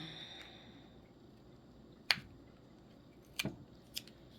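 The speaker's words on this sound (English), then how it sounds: "That's right, I'm done fighting tape. I have scissors now." Scissors snip through packing tape in a few sharp, distinct cuts, one clear snip followed by a quick pair and a final one, close and crisp against a quiet room.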